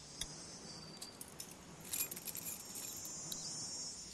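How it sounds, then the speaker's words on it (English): A set of keys jangles in The Walking Dead video game, with quiet, scattered metallic clinks that cluster into a brighter rattle midway, set over a faint background hum and no talking. "Oh, his keys."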